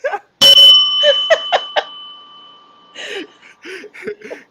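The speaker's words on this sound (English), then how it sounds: "I'm ringing the bell like a Salvation Army volunteer" A hand bell rung like a Salvation Army volunteer's, a few bright metallic rings with one ringing tone that lingers, voices shouting and talking over it.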